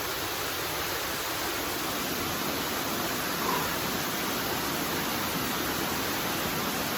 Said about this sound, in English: Give you a couple more seconds just to enjoy the waterfall.